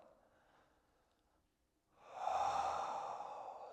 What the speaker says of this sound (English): we're bringing an end to this supine time with an intentional exhale through the mouth